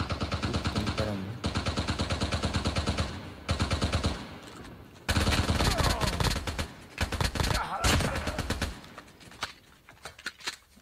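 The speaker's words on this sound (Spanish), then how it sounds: "Están disparando." Rapid automatic gunfire from the Call of Duty Mobile battle royale mode, loud, dense bursts that run almost continuously with brief pauses, then scattered single shots near the end.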